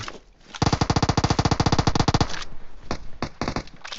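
Automatic gunfire from PUBG Mobile rattles in a fast, even burst of about two seconds, followed by a few scattered single shots and short bursts, loud and close with no talk.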